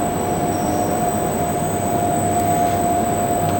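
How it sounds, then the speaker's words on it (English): Lab plastic extruder running at 40 RPM with a gear pump, giving a steady, loud machine drone with a constant tonal whine and broadband rumble throughout, no voices. "and then we press the start button for the extruder, and we go up to"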